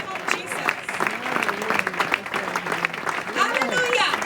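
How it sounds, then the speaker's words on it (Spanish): A church congregation at a Pentecostal convention in England breaks into sustained, crowded applause, steady and moderately loud, with a preacher's voice speaking over it throughout. "Un aplauso"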